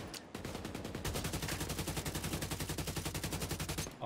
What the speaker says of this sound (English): I'm getting used to the shooting now.